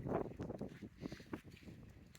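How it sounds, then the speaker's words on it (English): Wind buffets a microphone outdoors near a Jeep Gladiator Mojave truck, producing faint, uneven rumbling gusts with no one talking. "it's a little windy here, so if you guys hear a little quick gust of wind"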